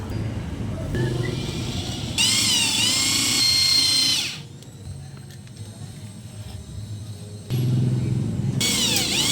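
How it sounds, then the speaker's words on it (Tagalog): A power drill bores out rivet heads on the clutch housing of a Raider FI motorcycle, loud whining bursts that start and stop in several runs with quieter handling noise between them. "na barinahan na natin yung ulo ng rivets"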